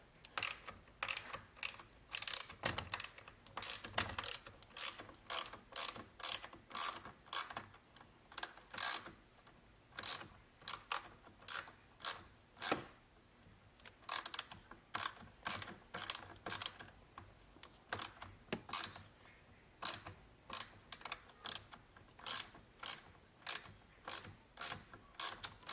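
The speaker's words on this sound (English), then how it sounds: "get our ratchet on that." A ratchet loosens a 10mm bolt on a 2020-up Chevrolet Corvette C8 during a steering wheel swap. Crisp, close clicks come in quick repeated bursts separated by brief pauses.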